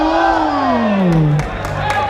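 A crowd at a football match roars loudly and steadily, with one prominent voice shouting a long, falling cry above the din.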